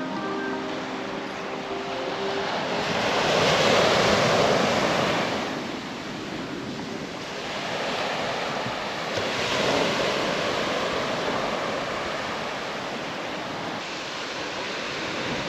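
Sea waves roll and break on a shore where desert meets the sea, a steady wash of surf that swells and eases in slow surges, with wind buffeting the microphone throughout.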